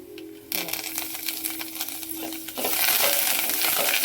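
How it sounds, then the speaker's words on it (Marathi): Spices and coriander powder roast in a pan over low heat for a vada sambar, with a steady sizzle and scraping stirring strokes that grow louder and hiss more densely toward the end. "बारीक गॅस करायचे, नंतर भाजायचे बघा धनिया पावडर"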